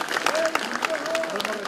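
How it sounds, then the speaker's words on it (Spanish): Applause and cheering from a crowd greeting an arrival during a town hall visit, steady dense clapping with a few whistle-like tones, heard close and continuous. "Dicho y hecho, aplausos y vítores a su llegada"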